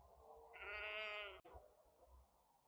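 A single sheep gives one clear, wavering bleat lasting about a second, close and fairly loud over a quiet countryside background.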